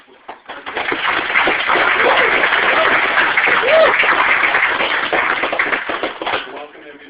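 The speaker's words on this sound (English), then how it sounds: "Round of applause for people." Audience applause after an introduction at a gathering, a dense, steady patter of many hands clapping for several seconds, fading near the end.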